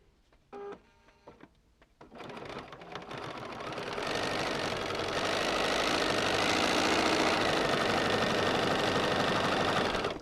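An electric sewing machine stitches a paper-pieced quilt, starting after a few brief handling clicks with a quick whirring burst, then running steadily and loudly at high speed for several seconds, with no talk.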